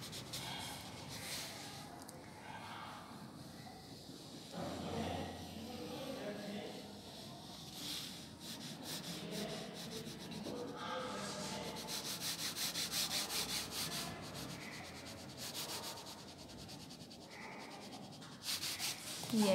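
A pencil shades on paper with soft, repeated scratchy rubbing strokes, first dark and then light, continuing in steady rhythmic passes with brief pauses, faint and close.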